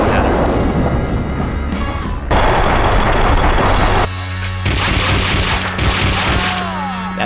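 Heavy gunfire in the Max Payne video game, sustained loud bursts of shots and crashing impacts filling the whole stretch, with brief shifts in intensity and no talk.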